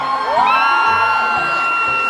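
A concert crowd of Filipino fans at a celebrity meet-and-greet show in Dubai shouts and cheers, rising whoops and yells blending into a loud, sustained roar.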